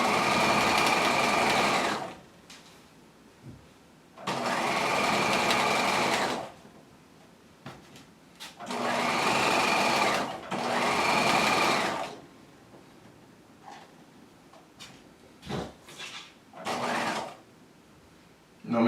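A sewing machine stitches a jacket's upper collar and facings in several bursts of rapid, steady whirring, separated by short pauses and small clicks as the fabric is repositioned, with a few brief stitches near the end.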